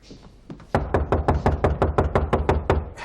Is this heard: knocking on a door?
yes